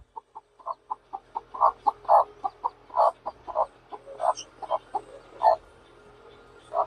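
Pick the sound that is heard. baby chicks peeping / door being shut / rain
baby chicks peeping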